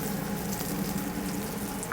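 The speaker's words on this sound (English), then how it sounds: "Just going to let them sizzle a little bit." Potatoes sizzle in butter in a pan with a steady, crackling hiss and faint bubbling, heard alone and close up.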